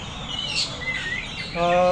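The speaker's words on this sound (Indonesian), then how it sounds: "Kalau Ranger posisi top perform, dia rollnya panjang, variasinya banyak itu burung." An oriental magpie-robin (kacer) songbird sings close by in quick varied chirps and whistled phrases, and a voice briefly cuts in near the end.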